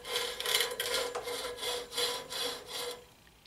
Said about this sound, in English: put our tool against the wheel, and gently turn the wheel by hand again